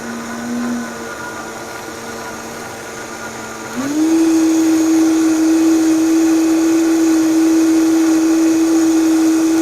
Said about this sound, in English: We're going to start the blender on variable.